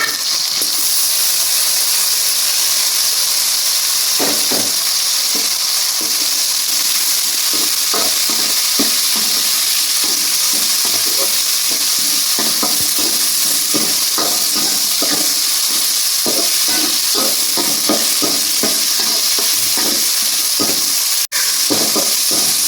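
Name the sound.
chicken varuval frying and being stirred in a pan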